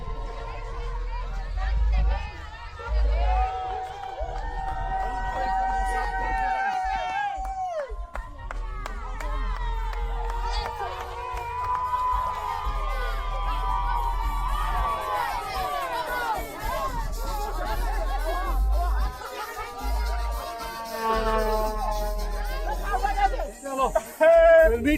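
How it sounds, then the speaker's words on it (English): Spectators line the Comrades Marathon route, producing a loud, continuous roar of cheering, shouting and babble with some clapping and whistles throughout. "This is the crowd, guys."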